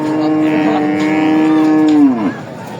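A bull at the Ambari livestock market in Dinajpur lets out one long, loud, drawn-out moo that bends downward at the end, close by and alone.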